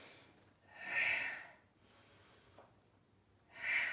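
Two deep, close inhales during a mixed-level gym workout with a ball and straw, each a strong airy draw of breath about two and a half seconds apart, with softer breathing between.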